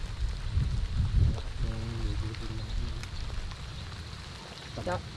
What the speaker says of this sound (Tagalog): Ganitong ulan.